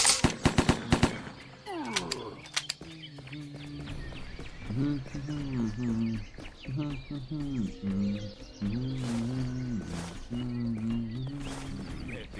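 Gunfire in the Chronicles of Vipers video game: a rapid burst of automatic shots at the start, then scattered sharp reports, while a voice talks over a game background.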